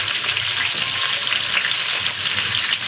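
Green chillies frying in a pan for chutney, a steady close-up sizzle and crackle of hot oil with occasional stirring, continuous and moderately loud.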